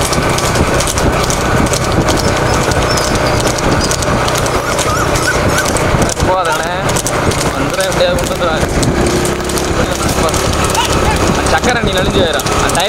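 Horses racing with carts in a rekla cart race at Erivayal, a steady loud rush of hooves and wheels over a continuous roar of crowd noise, with people talking throughout.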